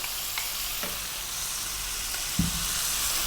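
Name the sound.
hot dog spaghetti sauce with chopped tomatoes sizzling in pan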